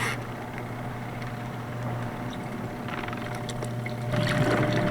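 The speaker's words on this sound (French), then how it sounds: "Ah, ça brasse bien, hein? Ça lave bien quand même, là." A camping laundry washer churns clothes in water with a steady mechanical hum and sloshing, swishing water that grows louder near the end, with no talk.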